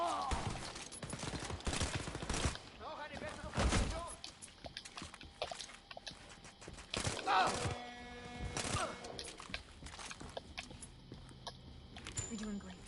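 Burst-fire pistol shots in the shooter Wolfenstein Youngblood, a few sharp clustered cracks scattered among game effects, fairly quiet overall, with people talking in between.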